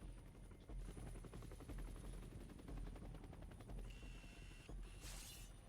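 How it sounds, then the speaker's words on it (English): A helicopter boss battle in the X-Men Origins: Wolverine video game, with a steady rotor thrum and bursts of rapid machine-gun fire layered over it, dense and continuous throughout. "this is gonna be another boss battle with a helicopter."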